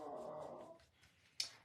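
A pet dog gives a soft low growl followed by a short high whimper, quiet and close, in a calm indoor workshop.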